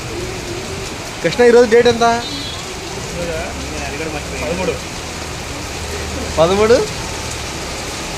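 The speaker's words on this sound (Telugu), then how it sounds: "ఫుల్ వర్షం." Heavy rain pours down in Goa in July, a constant rushing wash that holds steady throughout while people talk in short bursts over it.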